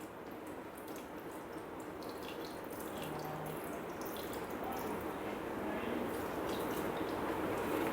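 Brown vinegar pours into a Thermomix as a soft, steady liquid trickle and splash that continues throughout, faint and close, with no talking.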